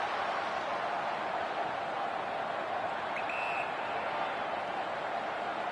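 Steady, even crowd roar from a simulated stadium during an Essendon Bombers vs Sydney Swans match in the AFL Evolution 2 video game, a constant broad wash of noise with no distinct claps or peaks.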